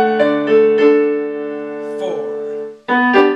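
Piano playing a short passage of a song, sustained harmonic chords struck in a slow rhythm with a brief pause before a final pair of chords, clear and close with no voices.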